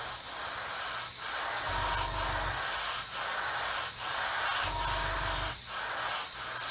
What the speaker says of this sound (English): it certainly seems to spray very nicely